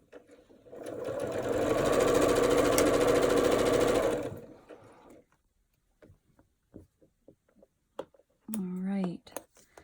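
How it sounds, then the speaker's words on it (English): A sewing machine stitches down the side of a fabric enclosure in one steady whirring run of about three seconds, close and loud, then stops, followed by scattered clicks, handling noises and a short spoken phrase. "we are going to sew down that side"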